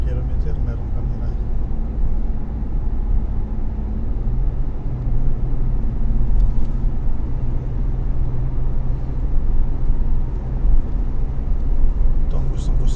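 A car cruises along a quiet highway in Saudi Arabia, a steady low engine and road rumble heard from inside the cabin that holds constant throughout.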